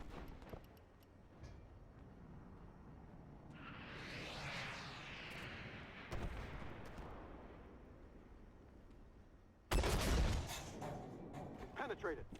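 Artillery fire in a tank video game: a booming shot with a long rolling tail, a sharp crack midway, then a loud close blast near the end amid ticking game effects, with a voice faintly underneath.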